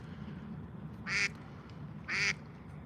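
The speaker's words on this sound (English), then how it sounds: "You hear the duck, don't you?" Two loud duck quacks spaced about a second apart over a steady murmur of outdoor background noise.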